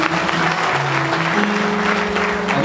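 Congregation applauding at a Nepali church wedding service, a steady dense wash of hand claps that fills the whole stretch with a faint sustained musical tone underneath.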